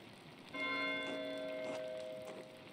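A church bell in the video game Pentiment rings with a sustained, resonant tone, struck several times in slow succession, each chime swelling over the lingering hum of the previous one.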